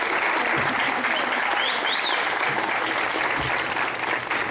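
An audience at a youth Spiritist gathering in an arena applauding, a loud, dense, sustained wash of clapping with faint crowd voices beneath, a few whistles rising out of it.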